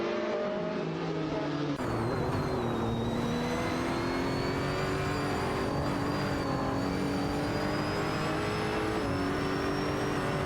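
Race cars in an AI-driven video game race, loud engines whining and droning together with pitch rising as they accelerate, several cars overlapping continuously after a quieter opening.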